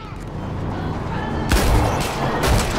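Two heavy gunshots in Far Cry 5 boom out about a second apart over a busy, noisy background.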